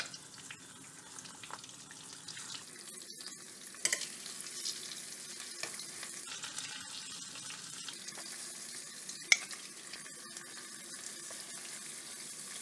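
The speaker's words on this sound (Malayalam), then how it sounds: "ഉണക്കമീനാണ് പെട്ടെന്ന് തന്നെ ഫ്രൈ ആവും" Dried fish pieces coated in masala fry in curry-leaf oil, making a faint, steady sizzle with occasional soft pops and scraping stirs, fairly low in level and with no talking.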